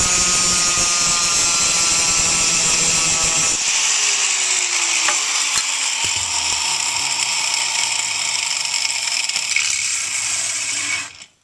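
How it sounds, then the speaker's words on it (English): An angle grinder with a cutting disc slices through an acrylic headlight cover from a Ferrari 348, giving a loud, steady, high-pitched whine and grind that continues without a break for about eleven seconds and then cuts off. "the angle grinder with the cutting disc does pretty short work of cutting through the acrylic stuff"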